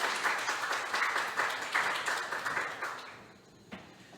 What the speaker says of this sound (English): Give them a big round of applause to welcome them.